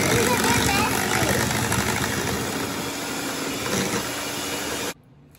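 Electric mixer whipping heavy cream, sugar and cream cheese, a steady close motor whir that runs continuously and then cuts off sharply.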